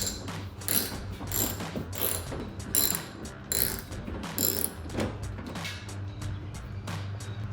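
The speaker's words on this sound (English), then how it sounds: "I'm going to use a 7/16 socket." A ratchet fitted with a 7/16 socket backs out a headlight mounting bolt on a 2014-2017 Toyota Tundra, a close, quick, repeated clicking in several bursts over a low background hum, with no talking.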